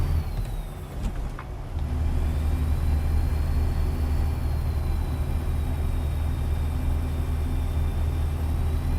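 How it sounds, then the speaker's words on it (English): Steady low engine rumble of a heavy company truck cruising in American Truck Simulator with manual transmission, with a brief hiss near the start; continuous and fairly loud, no talking. "We're in a company truck today."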